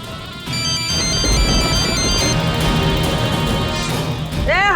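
A telephone rings with a bright, repeating electronic tone through a domestic comedy scene, sounding loud and close over a busy background of music and clatter.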